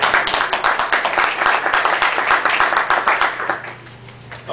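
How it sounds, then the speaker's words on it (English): An audience applauds a presentation's team members with dense, steady clapping that holds for about four seconds and then quickly fades out. "give everyone a round of applause,"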